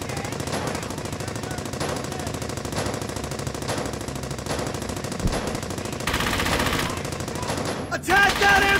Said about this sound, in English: Attack that MG-42!